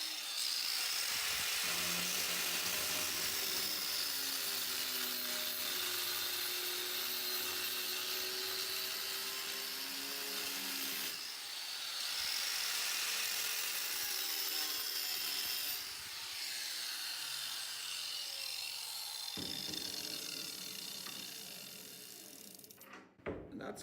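An angle grinder grinds a groove into a weld, a loud, continuous, high-pitched abrasive whine that holds steady for about twenty seconds, briefly dipping in pitch under load, then winds down at the end.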